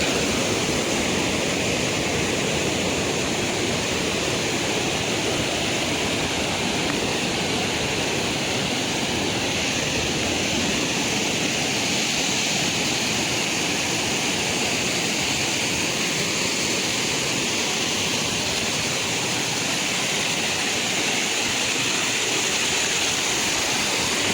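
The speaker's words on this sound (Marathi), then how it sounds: "पाणी बघा कसला वाहतंय" A river rushes fast near Vikramgad in Palghar, a dense, unbroken roar of flowing water holding steady and loud for the whole stretch with no talking.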